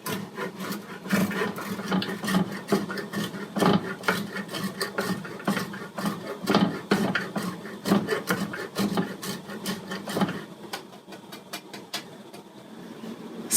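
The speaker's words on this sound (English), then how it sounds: "that's all I'm doing is just grating this cheese" Cheese is rubbed against a small hand grater in a home kitchen, making close, rhythmic rasping strokes that repeat steadily for about ten seconds before stopping, with no talking.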